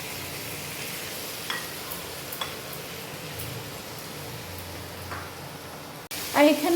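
Small kachki fish fry in a pan, a soft, steady sizzle with faint crackles, ending with a louder clatter at the close.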